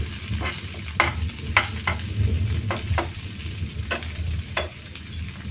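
Sliced ginger sizzles steadily in hot oil while a spatula stirs it, scraping the pan in a handful of irregular strokes over the constant frying hiss, with no talking.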